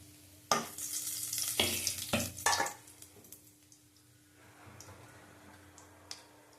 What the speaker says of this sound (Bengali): এভাবে আলুগুলি ভেজে নেব